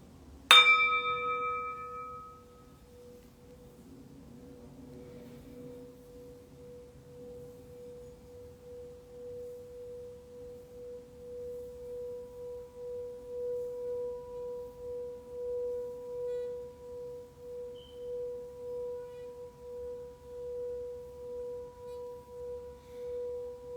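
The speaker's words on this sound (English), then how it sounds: "I will end this live after a quick sound bowl." A sound bowl is struck once and then rung, its clear tone holding steady and pulsing gently in a slow rhythmic swell, quiet and close.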